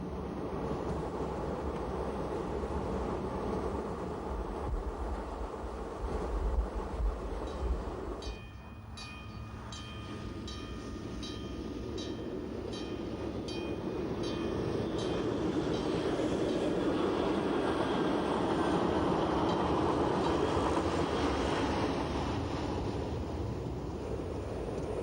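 An Appenzell Railways train runs on the line to Wasserauen with a continuous rumble and clatter of wheels on track, plus a rhythmic ticking of rail joints partway through and a swelling roar near the end.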